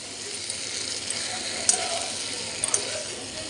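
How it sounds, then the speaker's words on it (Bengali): Potatoes and pointed gourd stir-fried in a wok with prawns, a steady broadband sizzle running throughout with a few sharp scraping clicks of the spatula against the pan. "আলু আর পটলগুলোকে ভালো করে কষিয়ে নেব।"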